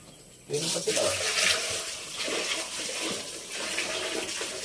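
Water poured into a cooking pot for sinigang na tambakol, a steady close splashing rush that runs the whole time under people talking nearby.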